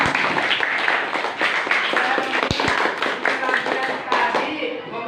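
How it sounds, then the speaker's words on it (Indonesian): Audience applause fills the room in a dense, steady wash of clapping that holds loud for about five seconds, with a couple of sharp taps partway through. "Tepuk tangan dulu buat"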